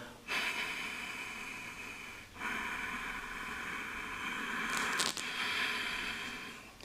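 Gentle Ujjayi breathing, a steady hissing breath drawn through a narrowed throat during a yoga meditation practice, sounding close and sustained with brief pauses between long breaths, alone without talk.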